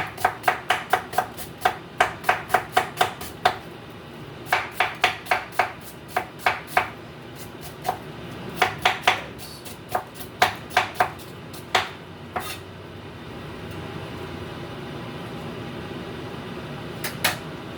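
Close, crisp knife strikes on a cutting board chop garlic for a Jamaican seasoning, coming in quick bursts of rapid, even chops broken by short pauses over a faint steady hum.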